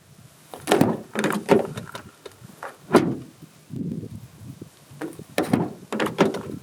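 Doors of a 2021 Hyundai Tucson 1.6T AWD being opened and shut, a series of close, solid thuds and latch clunks spaced irregularly over several seconds, with no talk.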